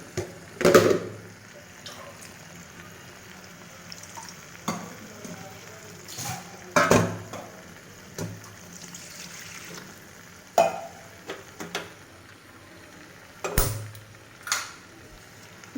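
Soybean curry with kasuri methi sizzles in a pan while a spoon stirs and scrapes it in repeated bursts, with occasional clinks against the pan over a soft frying hiss.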